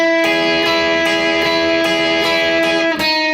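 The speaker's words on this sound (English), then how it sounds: "So this first guitar part that kicks in sounds like this." Electric guitar part, picked single notes in a steady repeating pattern over a sustained ringing tone, close and clear, with no voices.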